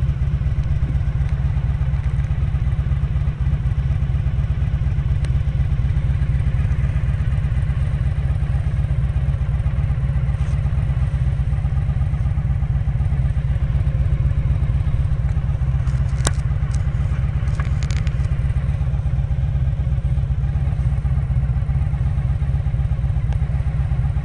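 A Honda VF1000R motorcycle fitted with VF1000F carburetors roars at speed on the road, a loud, steady engine drone mixed with heavy wind rush throughout.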